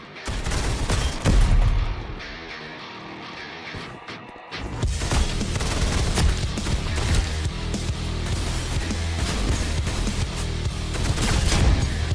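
Sustained automatic gunfire in the Roblox shooter Counter Blox, loud and dense, with a brief lull before the shooting resumes as a continuous, unbroken roar of rapid shots.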